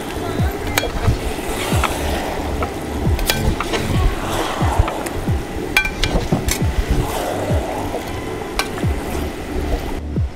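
Pepper chicken masala sizzles and fries in a pan while a spoon stirs it, with repeated scraping strokes over a steady, close crackle.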